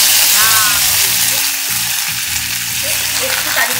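Curry leaves crackling in hot mustard oil for a prawn and raw mango dish, a loud, close, continuous frying sizzle with small pops and crackles throughout, no speech over it.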